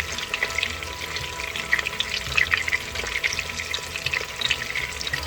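Chicken pieces brown in a 6-quart Instant Pot, crackling and spitting with a continuous close sizzle and uneven little pops, with no talking.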